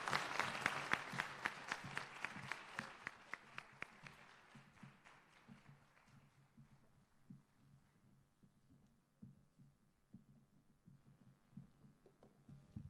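Audience applause at the official launch of the UNDP multi-country office in Jamaica, loud and dense clapping at first, then thinning into scattered, quieter claps.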